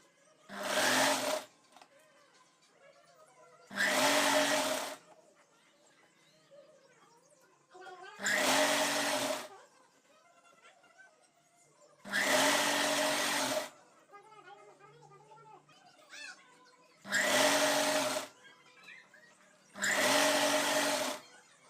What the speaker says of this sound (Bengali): পুরোটা আমি নিচ পর্যন্ত এভাবে সেলাই দিয়ে নেব